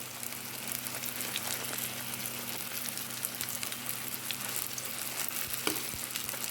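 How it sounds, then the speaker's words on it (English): Thin curry saltfish fritters fry in a pan, a steady close hiss of sizzling oil with faint crackles and pops throughout and no voices. "And we allow this side to fry"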